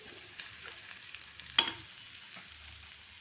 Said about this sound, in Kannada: ಈ ತೊಳೆದಿರೋ ಹೆಸರುಬೇಳೆ, ಗೋಧಿ ನುಚ್ಚನ್ನ ಹುರ್ಕೊಂಬಿಡೋಣ